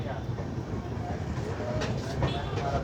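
The Kashi Mahakal Superfast Express pulls out of a railway station with a steady rumble and faint rail clatter, heard from on board, while voices murmur in the carriage.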